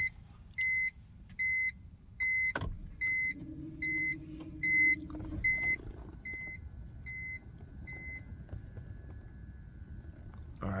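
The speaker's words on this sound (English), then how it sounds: "I'm gonna see if my car starts, and if it does start, I'm gonna see if it runs better than it did before." A car that had been running poorly is started: a series of evenly spaced electronic chimes, a thud, a short steady cranking tone, then a low engine rumble settling into idle, with no talking.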